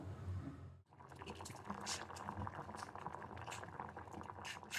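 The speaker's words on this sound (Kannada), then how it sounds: "ಈಗ ಚೆನ್ನಾಗಿ ಸ್ವಲ್ಪ ಬಾಯ್ಲ್ ಆಗಲಿ." Field beans (avarekalu) boiling in a pot, a soft continuous bubbling and simmering hiss that stays steady and faint throughout, with a brief dip near the start.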